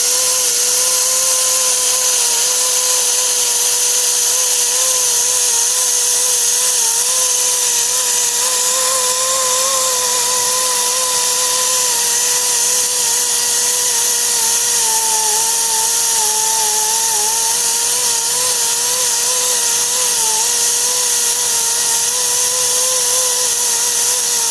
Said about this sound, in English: We'll get that out with the sander and then sand that down.